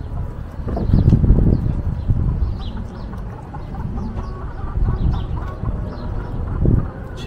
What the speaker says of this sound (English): Chickens just chilling, shitting all over the place.